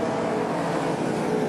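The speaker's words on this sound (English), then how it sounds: "Looks like an engine going south on him." A modified race car with a failing engine runs at speed. Its engine note is a steady, loud, rough roar across the whole short stretch, with no talking.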